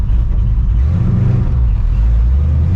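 A cammed, procharged 1999 Ford Mustang GT V8 idles close by, a loud, heavy, continuous low rumble with a lumpy pulsing beat and no break throughout.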